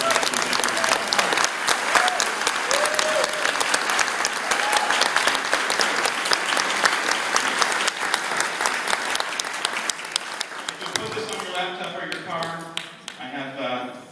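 Audience at a panel event giving sustained applause, loud continuous clapping from a sizable crowd that thins toward the end, with a voice and a few cheers emerging as it fades.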